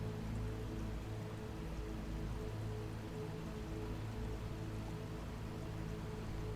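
Water from a waterfall pours down as a steady, dense, soft hiss of falling drops, even and unbroken throughout, with a low rumble underneath.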